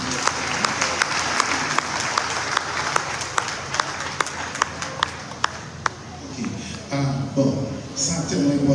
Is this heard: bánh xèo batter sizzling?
no